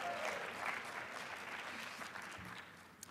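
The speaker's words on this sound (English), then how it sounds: "Please hold your applause" Audience applause at a presidential address, a sustained, moderately loud patter of many hands clapping that gradually thins toward the end.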